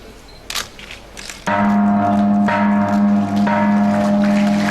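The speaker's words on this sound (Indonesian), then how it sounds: "sama-sama kita saksikan pemukulan gong" A ceremonial gong struck once at an official cooperative ministry event, a loud sudden stroke that rings on with a sustained, steady metallic hum after a few faint preceding taps.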